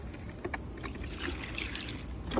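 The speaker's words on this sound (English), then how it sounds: "I'm rinsing my plastic and I'm rinsing off the urchins and shells" Water splashes and trickles while sea urchins and shells are rinsed in a plastic container: soft, irregular dribbling and sloshing with occasional small knocks, fairly quiet and close.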